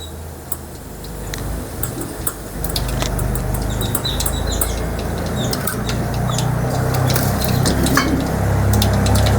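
Mustard seeds crackle and pop in hot oil, a dense run of sharp ticks over a steady sizzle, with faint clinks of a utensil against the pan.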